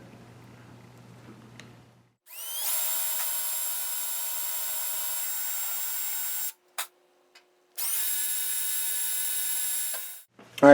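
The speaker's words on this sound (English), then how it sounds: "so I just need to be a little careful when I drill" A power drill bores through a Triumph Spitfire door panel during restoration, a loud steady whine running for about four seconds, a brief pause, then a second sustained burst, with no talking.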